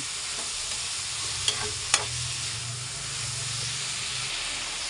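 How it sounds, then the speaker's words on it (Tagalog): Bitter gourd (ampalaya) sautéing in a pan gives a steady soft sizzle and hiss, with a couple of brief stirring clinks, close and fairly quiet. "magigisa tayo ng ampalaya"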